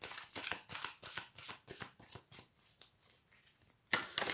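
Tarot cards shuffled by hand for a Sagittarius reading, a steady run of crisp riffling bursts with short pauses, close and clear, ending in a louder flurry, with no talking.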